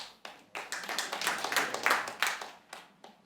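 A burst of hand clapping from a small comedy audience, rising and then fading over a few seconds, fairly close.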